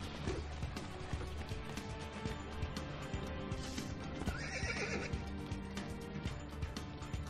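A horse whinnies loudly over a busy mix of hoofbeats and background game sounds in Assassin's Creed II, with a second shorter neigh partway through.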